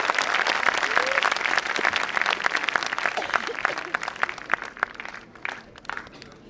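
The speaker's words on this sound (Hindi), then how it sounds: "जोरदार तालियां बजाइए आप सभी के लिए।" Enthusiastic audience applause at the valedictory function of a wellness conference, dense, loud clapping that holds strongly and then thins toward the end, with a voice briefly heard.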